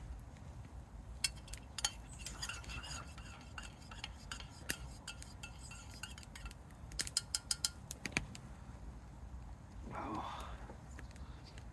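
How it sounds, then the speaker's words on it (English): Spoon stirring a brew in a cup at a hammock campsite, giving quiet irregular metallic clinks and taps against the cup over soft outdoor background noise. "Just going to give it another stir."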